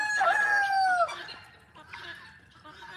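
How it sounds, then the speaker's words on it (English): Cold-tolerant farm fowl in snowy winter weather, a rooster crowing loudly close by in one long call, followed by fainter clucking and calls with no talk. "They're really cold tolerant birds though, these particular ones."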